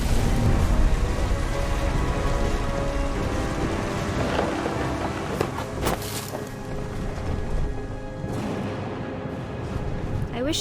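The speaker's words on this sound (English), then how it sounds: "The thunder sounded much too close and full of angry power" A thunderstorm in the video game What Remains of Edith Finch: heavy rain pours steadily and loudly throughout, with a few sharp crackles and a low rumble in the middle.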